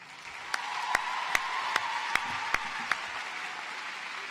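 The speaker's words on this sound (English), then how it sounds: "please join me in extending that applause to your families, friends and mentors and loved ones" Graduates and guests at a university commencement ceremony applaud their families, a wash of steady crowd clapping with a single sharp clap standing out at regular intervals, even and sustained throughout.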